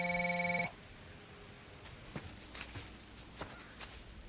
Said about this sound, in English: They're gonna hear it ringing upstairs.